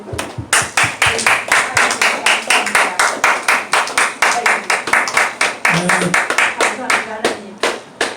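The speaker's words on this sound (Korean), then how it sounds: "박수 한번 쳐드립시다" A church audience claps together in steady rhythmic applause for a professor and poet, a dense run of hand claps lasting several seconds, with some voices mixed in.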